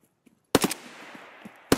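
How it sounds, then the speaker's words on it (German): Gunfire in the video game Escape From Tarkov: one loud burst of two or three close shots, a gap of sustained noisy tail, then another sharp shot at the end, with no talking. "Ich schieße nochmal, ne, also nicht erschrecken."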